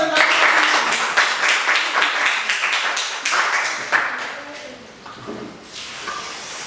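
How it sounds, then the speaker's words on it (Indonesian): A classroom group claps on cue, sharp uneven hand claps that start loud and thin out, with talking mixed in as the clapping fades. "Oke, tepuk tangan dulu."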